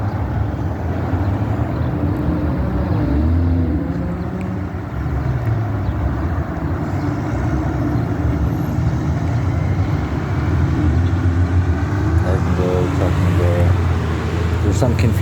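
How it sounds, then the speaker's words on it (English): A car pulls up at a T intersection on a street, its engine and tyre noise steady and fairly close amid continuous outdoor traffic rumble. "Nope, we got a car pulling up there."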